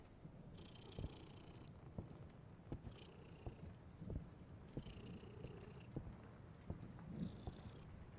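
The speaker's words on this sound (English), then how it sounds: "This kitty has a motor." Cat purring steadily inside the Demonologist video game, a soft low continuous rumble with faint ambient background and occasional light taps.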